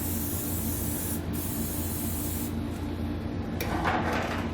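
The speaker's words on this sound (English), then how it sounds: "I'm going to take a little bit of spray lubricant, I'm going to spray it on the hanger." A steady hiss of an aerosol can of spray lubricant spraying continuously up close onto a trailer hitch hanger, with a couple of short pauses and slight shifts in the spray's texture.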